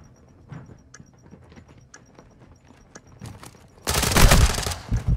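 A planted bomb device in Call of Duty MWII multiplayer gives a regular electronic tick about once a second amid footsteps and movement, then a loud burst of gunfire breaks in near the end.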